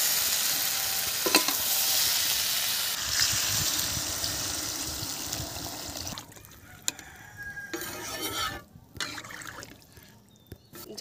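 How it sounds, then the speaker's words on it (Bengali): Water is poured into a pan of sizzling fried spice paste for a small-fish curry; a loud steady sizzle fills the first six seconds, then breaks into quieter crackling, bubbling and stirring. "মশলা কষা হয়ে গেছে, এবারে আমি জল ঢেলে দেব।"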